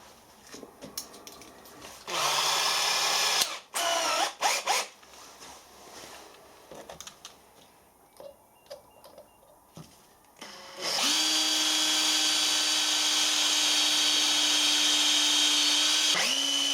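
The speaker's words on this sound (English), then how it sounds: "Need to drill a hole" A power drill whines loudly in several bursts, then runs long and steady as it bores through a bronze bush, with a strained, grinding pitch.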